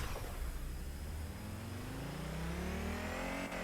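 A race car in a driving video game accelerates on full nitrous and full throttle, its engine whining steadily upward in pitch, loud and continuous with no talk over it.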